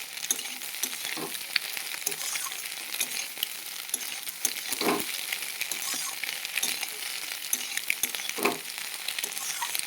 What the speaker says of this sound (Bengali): নাড়াচাড়া করে ভেজে নেব।